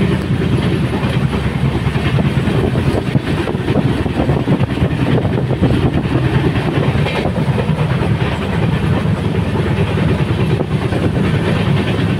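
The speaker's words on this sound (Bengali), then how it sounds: "ক্রস করছে পদাতিক এক্সপ্রেস" Padatik Express passenger train running near Baneshwar station at about 110, a loud, steady roar of wheels and carriages with rhythmic clickety-clack throughout, heard from close by with no talk.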